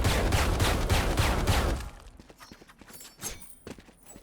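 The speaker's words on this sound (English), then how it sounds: "Another thing to remember with the judge that's fully automatic." Judge shotgun in the Valorant video game firing fully automatic, a rapid burst of about six loud close blasts, followed by quieter clicks and clatter as it stops.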